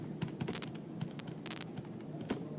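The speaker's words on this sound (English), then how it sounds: "if we type that in our calculator" Numbers are tapped out on a calculator in quick, light clicks, irregular and close, with a faint hum behind them and no other sounds.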